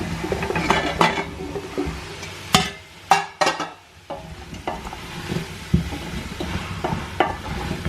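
Kolokasi is tipped into a pot of cooking celery and stirred. Repeated metallic clanks and scrapes of a utensil against the pot ring out over a low sizzle.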